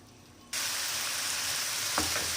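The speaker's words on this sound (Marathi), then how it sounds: "त्याला छान तेलामध्ये परतून घेऊया। पाच मिनिटं परतून घ्यायचं।" Dal paste and onion fry in hot oil, a steady loud sizzle that starts abruptly after a brief quiet moment and carries on evenly, with a faint stir or scrape near the end and no talking.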